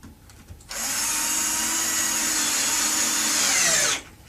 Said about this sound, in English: So I'm going to put 6 screws in here.